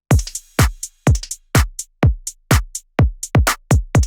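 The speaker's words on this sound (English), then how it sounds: "And the drums sound like this." Electronic drum loop of punchy kicks, claps and crisp hi-hats in a tight, steady pattern of about two hits per second, loud and dry with silence between hits.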